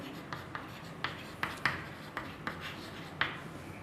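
Chalk or pen scratching out short strokes in a Hindi-language trigonometry lesson, a series of quick taps and scrapes at an irregular pace, close and fairly faint, with no voices.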